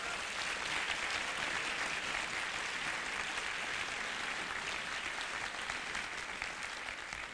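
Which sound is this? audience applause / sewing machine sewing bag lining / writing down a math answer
audience applause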